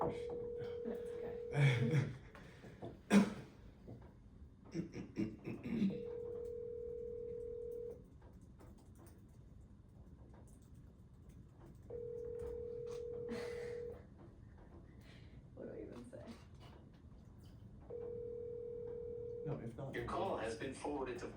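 A telephone call being placed during a committee meeting: a steady dial tone or ringback sounds in long, evenly spaced bursts of about two seconds, separated by pauses, with scattered speech and room noise at the start and end.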